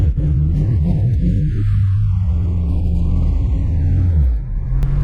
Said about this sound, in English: I'm hoping that you're able to hear the engine sounds and stuff of the car really well.